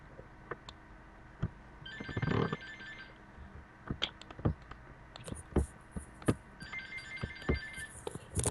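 A telephone rings in two electronic bursts, one early and one near the end, amid scattered knocks and clatter from people moving about a room.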